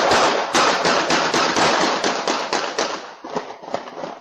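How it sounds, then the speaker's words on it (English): A rapid series of sharp, loud cracks in quick irregular succession, like gunshots at a shooting outside on Dallas Street, dense at first and then thinning into scattered bangs with background commotion. "you hear the first series of gunshots and see people scrambling for safety"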